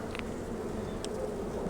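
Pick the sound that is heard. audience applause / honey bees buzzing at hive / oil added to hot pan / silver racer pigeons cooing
honey bees buzzing at hive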